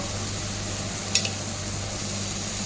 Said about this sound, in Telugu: ఇది కూడా మనం బాగా మంచి స్మెల్ వచ్చే వరకు ఫ్రై చేసుకోవాలి